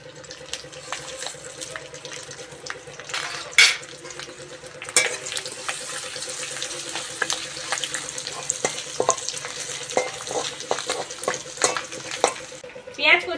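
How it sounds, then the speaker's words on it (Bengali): Bay leaf, dried red chilli and Bengali five-spice crackle and sizzle in hot oil in a pan, a steady near frying hiss with scattered pops and stirring clatter throughout, no voices. "এখানে ফোড়নের জন্য তেজপাতা, শুকনো লঙ্কা আর 5 ফোড়ন নিয়েছি,"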